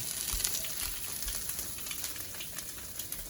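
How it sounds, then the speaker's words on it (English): Bread fries in a pan for pain perdu with a soft, steady sizzle and scattered little pops, fairly quiet and close, with no talking. "Good, it's starting to sizzle."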